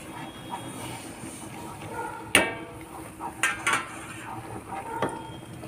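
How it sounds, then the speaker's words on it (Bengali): Semolina is stirred into boiling water in a pan for sujir halwa, a spoon scraping and clinking against the metal in a few sharp knocks over a soft bubbling, close up and without talk. "একটু একটু দিয়ে নাড়তে হবে।"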